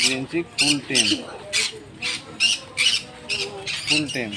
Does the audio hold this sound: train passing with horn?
no